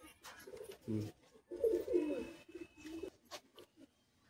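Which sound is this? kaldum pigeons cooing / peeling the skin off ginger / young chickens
kaldum pigeons cooing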